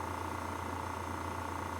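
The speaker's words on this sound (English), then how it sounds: "All right, that's my compressor going." An air compressor runs in a workshop, giving a steady, even drone with a constant low hum throughout. It sounds fairly quiet and continuous, with no talking.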